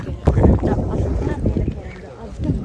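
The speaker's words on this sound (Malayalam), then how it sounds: "നല്ല കാറ്റുണ്ട്" Strong wind buffets the microphone on a foggy hilltop at Ambaji Durga Betta, rough gusty rumbling that rises and falls, with a voice partly mixed in.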